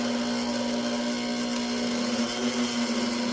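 Electric mixer whirring steadily at low speed while mixing dough for hot dog rolls, a constant motor hum with a strong tonal drone running throughout, close and alone.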